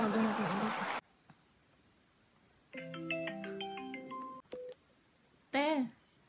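A phone dialing a call: a short run of stacked keypad-style tones, then quiet, with a voice speaking briefly before and after, close and clear.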